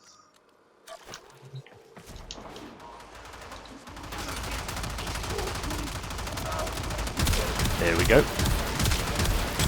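Enemy gunfire in the game Warframe rattles in dense, sustained bursts that build louder across the clip, with a brief spoken remark near the start.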